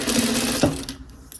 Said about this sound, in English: Right, so I'm just going to sew up here.